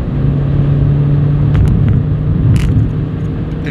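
Interior drone of a 220 hp Renault Clio IV RS Trophy accelerating on the road, a loud steady low engine rumble with road noise, rising slightly, no voices.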